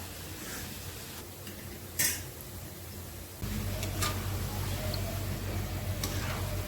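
Guvvalu, small shell-shaped dough pieces, frying in hot oil, a steady close sizzle with a few light clinks of a utensil against the pan, the bubbling growing fuller partway through.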